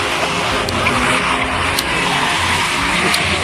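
Loud, sustained drag racing car engine roar at a drag race in Cherkasy, Ukraine, with gritty broadband noise and brief tire-like squeals, steady and close throughout.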